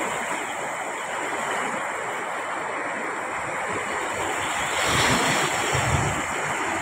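Sea waves wash steadily onto a littered beach shoreline, a continuous rushing surf with wind noise on the microphone, swelling louder near the end, with no talking.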